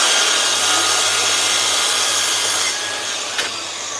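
A miter saw rips through an oak rail in a loud, close, continuous whine of blade on wood that tapers slightly before a small knock near the end.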